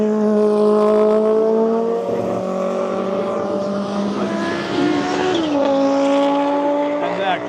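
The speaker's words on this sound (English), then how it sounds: "Quattro sounds unreal" Audi Quattro Group B rally car on a track, its engine note loud and close, holding steady pitch then dropping sharply as it shifts or lifts, with a sweeping rise near the end as it passes.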